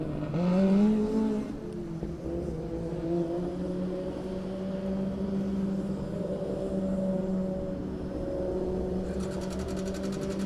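A 2019 Formula Student combustion race car lapping the skidpad at a historic event, its engine holding a steady high-pitched drone with rising and falling harmonics and a short rev at the start, continuous and fairly close.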